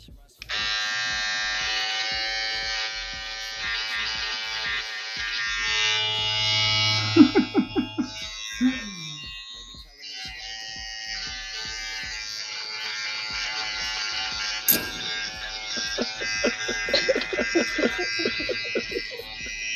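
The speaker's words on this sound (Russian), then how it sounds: "Усы, значит, режем." An electric shaver buzzes steadily and close up, its pitch wavering as it cuts off a moustache, while people chat and laugh around it.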